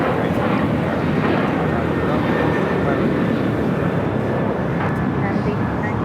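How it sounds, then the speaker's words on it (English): An ANA Boeing 787 Dreamliner on approach to touchdown on runway 24 at LAX gives off a steady, loud broadband jet roar that holds for the whole stretch, with talk layered over it. "Star Alliance ANA Dreamliner. About to touchdown at 24 right there on the north side."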